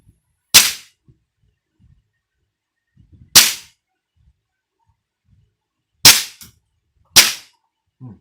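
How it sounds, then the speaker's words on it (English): Four sharp air gun shots ring out alone in a quiet space, spaced a few seconds apart, each followed by a brief clatter of a pellet bouncing. "The bullets came out. You can hear the bouncing."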